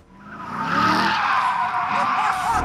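A Corvette on a race track skids with a loud, sustained tire squeal that swells quickly and holds for a couple of seconds.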